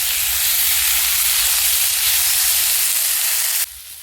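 Steady, fairly loud sizzle of onions frying with garlic and ginger paste for a Bengali fish curry, a dense hiss that drops away abruptly near the end.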